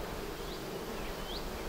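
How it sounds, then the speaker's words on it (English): Honey bees buzz steadily around an open beehive during a hive inspection, a dense continuous drone with a few individual bees whining past close to the ear. "There's a bee on me."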